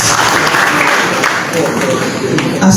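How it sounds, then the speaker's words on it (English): A crowd gives a loud, dense round of applause for the Minister of Foreign Affairs at a Liberian government program launch, a continuous wash of clapping filling the hall. "let's give another round of applause to the Minister of Foreign Affairs for such a powerful"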